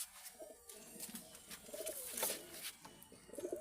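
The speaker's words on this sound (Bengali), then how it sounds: "দেখো কত সুন্দর পায়রা দুটো।" Pet pigeons, including Madras-breed youngsters, in a home collection in Ranaghat give soft, repeated throaty coos in short rising and falling phrases. The coos are faint and close, with no speech.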